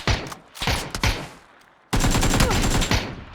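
AKM and MK14 rifle fire in PUBG: loud rapid bursts and single cracks, a sharp volley, a short lull, then a sustained close burst of automatic shooting.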